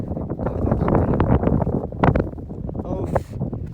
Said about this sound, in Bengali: বাতাস লাগে কিন্তু খুব গরম বাতাস